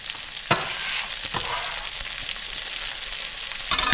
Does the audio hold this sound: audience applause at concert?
no